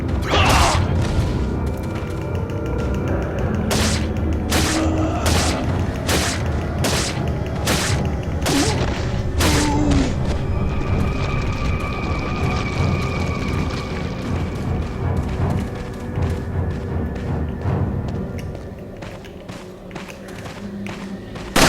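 Pistol shots fire in Resident Evil 4 on Professional mode, about eight loud cracks in a steady rhythm roughly every half second, followed by rumbling game ambience.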